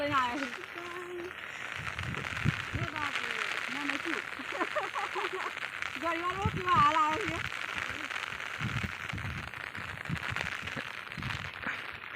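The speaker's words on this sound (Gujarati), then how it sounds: "જબર છત્રી પર સોટા પડે છે ફુવારા જેવા" Heavy rain drumming on an umbrella overhead out at a farm field, a continuous hiss with voices talking over it throughout.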